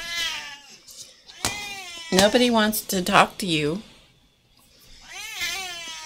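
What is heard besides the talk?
cat meowing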